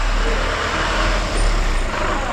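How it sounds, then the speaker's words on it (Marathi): An auto rickshaw pulls up close by, its engine and road noise forming a loud, continuous rumble with no voices. "भावजींची रिक्षा"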